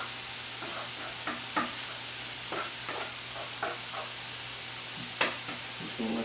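Meat sizzles steadily in a pan beside poblano peppers, a constant close hiss broken by several soft knocks and stirring scrapes of a utensil.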